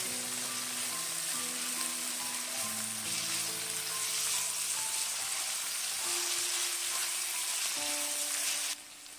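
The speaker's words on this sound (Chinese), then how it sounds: "翻炒均匀，炒出香味。" Chopped scallion and ginger stir-fried in a hot wok, a dense continuous sizzle with scattered spatters and spatula scrapes, loud and close, cutting off near the end.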